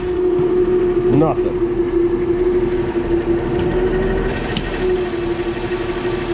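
A 1966 Ford F100 truck engine runs steadily at a loud, even idle with a constant droning hum, while someone says a word over it.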